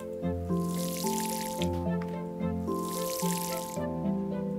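Watering plants in the farming game Paleo Pines: soft splashing water bursts that come twice, each lasting about a second, over a steady melodic game tune.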